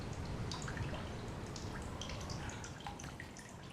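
Water dripping in The Solus Project video game: scattered bright drips and droplet plinks fall irregularly over a steady rushing wash of water, close and fairly loud, with no talking.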